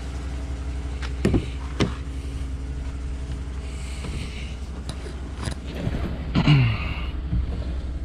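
A Chevrolet Suburban with 110,000 miles runs steadily during a test drive, a low constant engine hum broken by occasional creaks and clicks, with no talking.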